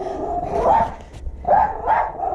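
A dog barks and yips twice, fairly close and moderately loud, in a pair of short bursts indoors.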